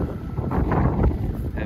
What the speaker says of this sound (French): on a quand même pas trop de chance parce qu'il y a du vent